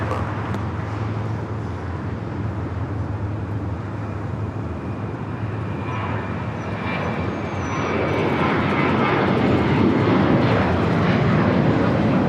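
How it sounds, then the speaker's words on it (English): Alaska Airlines Boeing 737-900ER taking off at night at LAX, its jet engines a broad roar that swells and grows louder over several seconds from a moderate distance, with faint traffic noise beneath. "Next takeoff is Alaska Airlines Flight 698 heading to Seattle, 737-900 ER."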